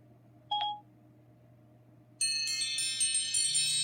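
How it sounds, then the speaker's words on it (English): A phone timer alarm goes off: one short chime first, then after a pause a bright, steady, ringing alarm tone that keeps sounding to the end. "That was my timer coming in."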